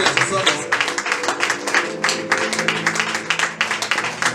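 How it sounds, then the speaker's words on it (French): A church congregation at a gospel service in Togo applauds loudly and steadily, many hands clapping in a dense, rhythmic burst throughout. "Acclamons très fort pour la vie de notre frère Raoul Darmeda."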